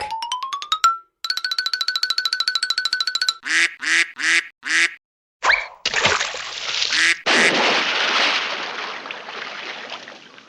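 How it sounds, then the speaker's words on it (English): Sound effects for a miniature farm diorama: a rising boing and a rapid rattling run give way to a series of clipped, cartoonish duck quacks, followed by a splash and water noise. Everything is loud and close. "Duck."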